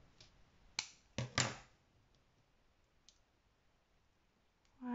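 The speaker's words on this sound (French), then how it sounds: "je vais couper le bout" Scissors snip the end off a paper foliage piece for a scrapbooking layout, giving a few sharp, quiet clicks in quick succession close by, followed by faint rustling.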